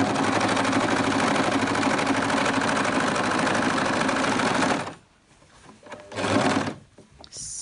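Domestic sewing machine stitching jersey fabric for a homemade sweatshirt in a kitchen, a loud steady whirring run that stops abruptly, followed by a couple of short bursts of stitching.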